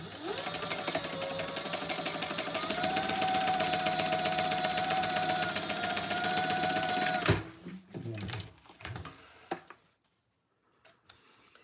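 A home sewing machine runs steadily for about seven seconds, stitching a quarter-inch seam in fabric for a onesie. Its fast, even motor whir and needle ticking stop abruptly, followed by a few faint handling clicks and then near silence.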